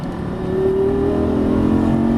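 A Lamborghini Gallardo Superleggera LP570-4 accelerating on a track, its engine note climbing steadily in pitch as the throttle opens, loud and close with a smooth rising whine.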